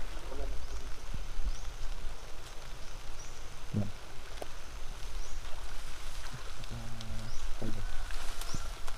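Steady rain patters outdoors by a banana grove, a continuous broadband hiss with a few scattered knocks and faint movement sounds.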